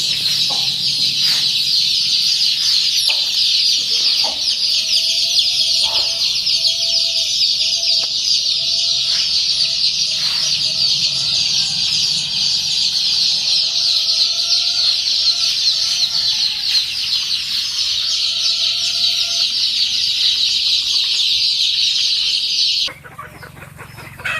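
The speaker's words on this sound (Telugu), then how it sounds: "చూసారు కదా మంచి యాక్టివ్గా ఉన్నాయి four days old H one చిక్" Constant high-pitched peeping of many four-day-old Giriraja chicks, loud and close, with occasional soft clucks beneath, continuing almost unchanged until an abrupt cut.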